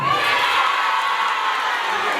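A large crowd at a CHADEMA rally in Nkasi cheers and whoops, the massed voices blending into a steady, close, loud roar that never drops away.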